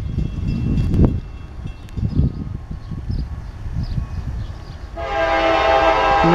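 A Norfolk Southern northbound short autorack train rumbles past in Marion, Ohio, with heavy low thumps and rolling noise before its horn sounds loud and sustained toward the end.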